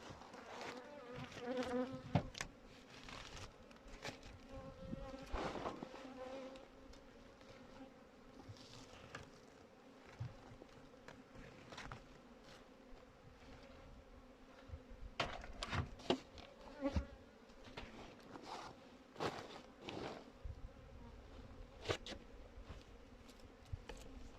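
Honeybees at a hive during winter feeding with Konya sugar bee feed, a steady low buzzing swarm with scattered louder passes and sharp knocks and handling noises.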